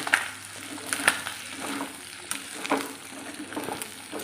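Beef fry with coconut pieces sizzling in a heavy, thick-bottomed pan, stirred with a few sharp scraping clacks over a steady frying crackle, close and without talk.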